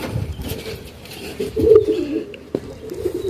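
Snow white homing pigeon cocks cooing softly near at hand, low murmuring coos with a brief sharp tap partway through.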